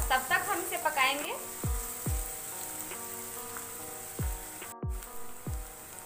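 Onions sautéing in a pan for a vegetable hot dog recipe, giving a steady soft sizzle with a few sharp clinks of a utensil against the pan and a brief voice near the start.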